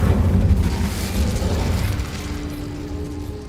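A fire spell cast in the video game Hogwarts Legacy bursts with a loud, booming blast that rumbles for about two seconds and then thins out into a quieter hiss and tonal shimmer.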